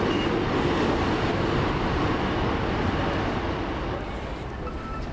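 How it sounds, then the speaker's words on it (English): A passenger train, unit 15223 on the Rochdale to Wigan Wallgate service, rolls into Bolton station with a steady broadband rumble of wheels and traction, fairly loud and close throughout, easing slightly near the end. "15223 comes in with the service from Rochdale to Wigan Wallgate."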